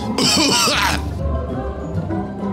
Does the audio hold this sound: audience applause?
no